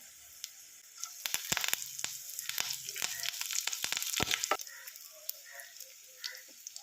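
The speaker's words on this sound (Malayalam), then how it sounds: "പെരിഞ്ജീരകം കൂടെ ഒന്ന് മൂത്ത് വരുമ്പോഴേക്കും കറിവേപ്പില ഇട്ട് കൊടുക്കാം" Fennel seeds and curry leaves fry in hot oil for a jackfruit thoran, giving a close, steady crackling sizzle with sharp pops and spits that peak midway and then ease off.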